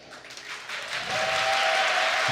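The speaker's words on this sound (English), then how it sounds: "Here we have a nice round of applause for the players gathering here." Applause from the audience at a Yu-Gi-Oh! trading card tournament, the EU Greek Open, greeting the players; it starts soft and swells into steady clapping, fairly distant and without speech.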